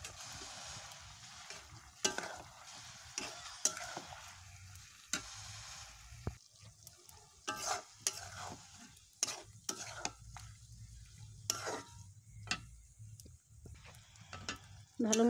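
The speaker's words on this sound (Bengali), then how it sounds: "ভালো মতন এখন নাড়াচাড়া করে কষে নিব" Chicken sizzling in spiced masala of onion, turmeric, salt and coriander powder while a spoon repeatedly scrapes and stirs the pan, the clatter coming in irregular close strokes over a soft frying hiss.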